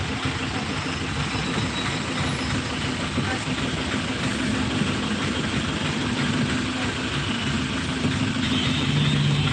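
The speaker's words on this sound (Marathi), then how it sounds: "बार्शी नाक्यापासून ट्रॅफिक जाम झालेला आहे" Idling cars and trucks in a traffic jam in Beed, a dense steady engine rumble with mixed motor drones, and people talking faintly under the noise throughout.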